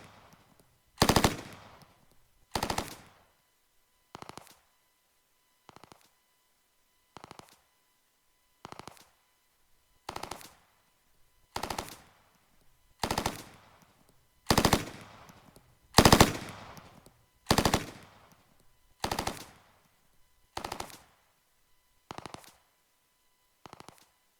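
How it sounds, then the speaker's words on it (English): Bursts of machine gun fire repeat at a steady pace, starting distant and muted, then growing louder and sharper as if heard up close. "we hear the far sound crossfading to the close-up shot sound"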